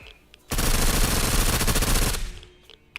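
A sustained mag dump of automatic gunfire in Surroundead, one long loud unbroken burst of about two seconds that starts abruptly and then cuts off into quiet.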